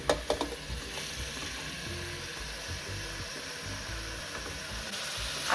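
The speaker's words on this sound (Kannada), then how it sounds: "ಮಟನ್ ಸೇರಿಸ್ಕೋತೀನಿ." Mutton sizzles loudly in hot oil with bay leaves in a pan, a steady dense frying hiss with a few clatters of a spoon stirring at the start, no voices.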